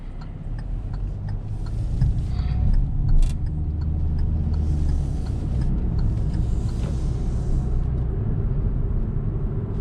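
A 2022 Hyundai Venue drives through city streets, heard from inside the cabin as a steady low engine and road rumble with faint rattles and no one speaking.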